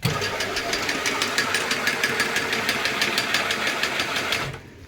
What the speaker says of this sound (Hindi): इसको मैनुअली चला देंगे, अगर आप मशीन की आवाज़ सुन पाएंगे भी 1 मिनट के लिए